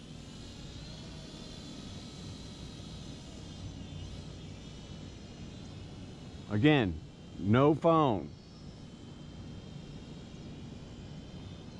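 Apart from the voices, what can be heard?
Holy Stone HS100 drone flying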